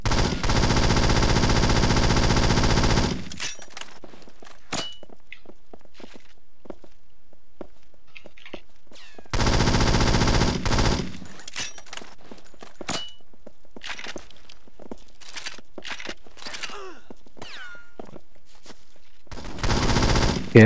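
Bursts of gunfire in a team shooter scrim on a casino map, two loud sustained volleys a few seconds long separated by scattered sharp shots, clicks and footsteps, with no talk over them.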